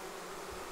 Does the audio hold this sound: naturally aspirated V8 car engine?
no